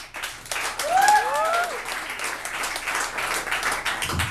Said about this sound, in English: keep the claps going for Mr. Wil' E. Fontaine.